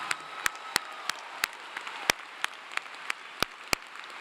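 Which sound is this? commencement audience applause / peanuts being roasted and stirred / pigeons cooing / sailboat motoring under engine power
commencement audience applause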